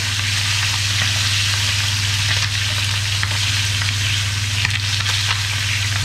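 Whole boned chicken sizzles loudly and steadily while pan-roasting, a dense continuous frying crackle with a low hum beneath it and no voices.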